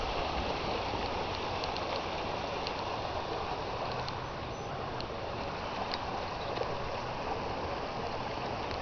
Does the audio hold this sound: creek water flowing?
yes